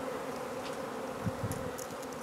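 Honey bees fill an opened hive during a beginner beekeeping class, making a faint, steady low buzz. A few soft bumps can be heard near the middle.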